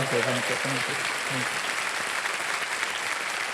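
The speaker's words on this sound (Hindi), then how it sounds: "एक बार फिर ताली बज जाए इन लोगों के लिए।" On the Kaun Banega Crorepati TV quiz show, a studio audience gives steady, sustained applause for several seconds, with a voice speaking over the clapping at the start.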